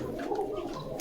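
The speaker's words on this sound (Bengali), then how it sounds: "এটা তো জোড়াশয় কবুতর, পিওর জোড়া।" Pigeons cooing up close inside a pigeon shop in Bogura, soft low throaty coos in a brief run with light background noise.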